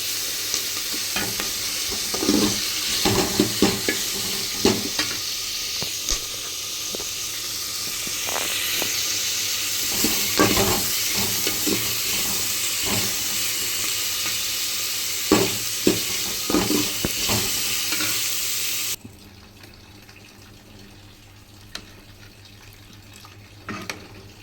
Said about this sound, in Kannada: ಸಾಂಬಾರು ರೆಡಿಯಾಗಿದೆ, ಅನ್ನನೂ ರೆಡಿಯಾಗಿದೆ. ಸೊ ಅದಕ್ಕೆ ಒಗ್ಗರಣೆ ಹಾಕಬೇಕು